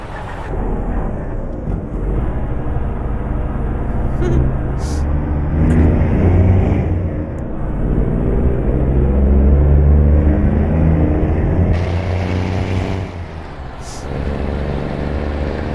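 A heavy truck hauling a horse trailer cruises along a highway in Euro Truck Simulator 2, its engine humming and whirring steadily with swells of revving, continuous and fairly loud, with no talking.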